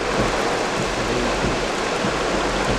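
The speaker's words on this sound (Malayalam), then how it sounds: "നല്ല മഴ കേട്ടത്" Steady, dense hiss of heavy rain pouring down continuously in a forest, loud and close with no gaps or voices.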